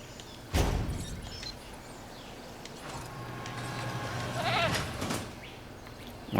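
Goats bleat at a goat feeder in the Jurassic World park-building video game, a few short bleats rising over steady in-game ambience, moderately near.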